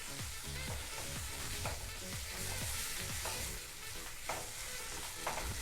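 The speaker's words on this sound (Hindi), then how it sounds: "हम अपने मसाले को जितना अच्छा भूनेंगे उतना अच्छा हमारी सब्जी तैयार होगी" Spices sizzle in ghee with a splash of water for a mushroom do pyaza curry, a dense, continuous hiss and crackle with occasional scraping stirs of a spoon in the pan and no talking.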